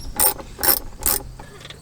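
Rapid ratchet clicking from a socket wrench backing out dash screws on a Jeep Wrangler, three distinct close bursts of ratcheting with short pauses between them, then quieter fiddling at the end.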